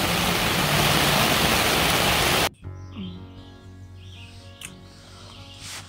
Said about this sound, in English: It's coming down good. It's raining so hard.